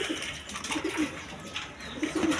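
Pigeons kept for sale coo at close range, giving several low, throaty bursts in a loose rhythm over a faint background hiss, with no one talking.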